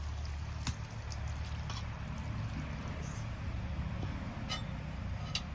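A little water rinsed from a spice bowl goes into a pan of prawn dopiaza, making a soft, continuous liquid wash under low rumble, with a few faint drips and clinks.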